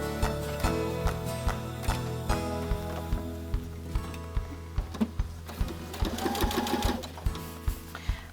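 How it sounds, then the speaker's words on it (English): Sewing machine stitching a 1/4 inch seam along a fabric pillowcase, a steady rapid needle rhythm, close and clear, with a brief pause and a change of pace partway through. "And now I'm ready to take it to the sewing machine."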